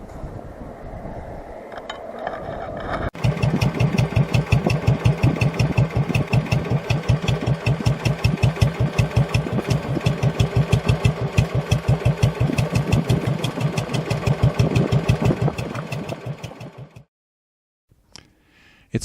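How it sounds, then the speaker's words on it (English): A Moto Guzzi Nuovo Falcone motorcycle engine fires up and runs with a steady, rapid thumping pulse, loud and close, for about fourteen seconds before cutting off abruptly into near silence. "I can't think of a better way to spend a couple of hours than rolling along on my Moto Guzzi Nuovo"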